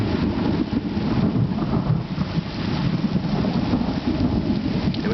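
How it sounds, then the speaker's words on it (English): A severe thunderstorm with heavy rain pouring down steadily and loudly while deep rumbles of thunder roll underneath, with no talking. "Every time the thunder hits."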